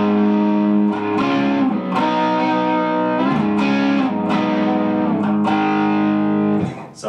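Electric guitar with a light overdriven crunch, strummed chords from the intro of a song ringing out in a steady sequence, close and loud with no voices.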